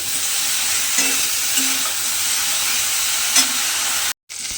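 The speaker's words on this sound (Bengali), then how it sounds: "নুন আর হলুদ গুঁড়ো দিয়ে বেগুনটাকে প্রথমে আমি খুব ভালোভাবে লাল করে কিন্তু ভেজে নেব" Eggplant pieces coated with salt and turmeric fry in hot mustard oil, producing an even, loud sizzle with a few soft stirring knocks and no talking.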